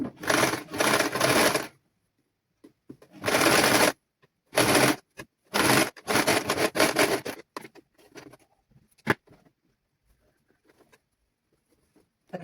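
Sewing machine stitching a seam on a child's garment, heard as several loud, rapid mechanical bursts of stitching separated by pauses, close up, with softer handling clicks between runs.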